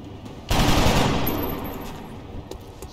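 Rifle fire in XCOM Long War arrives as a sudden loud, sustained crackling burst that fades over a couple of seconds, with faint game ambience around it.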